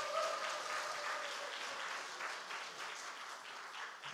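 Applause from a church gathering at a Bible quiz contest, cheering the Sunday school group: a steady, moderately distant crowd clapping that holds evenly for several seconds.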